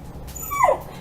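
A dog lets out one short, rising whimper that ends in a yelp, close and clear over a quiet background, with no talk.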